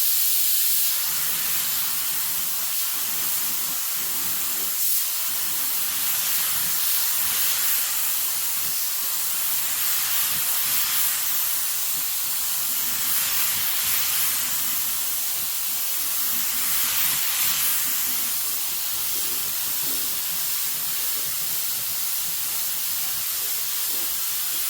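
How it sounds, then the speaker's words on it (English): A paint spray gun hisses steadily with an air compressor running, a dense continuous rush of air and atomized paint filling the whole stretch at close range, with slight swells but no pauses. "I'll just spray whatever's in the spray gun"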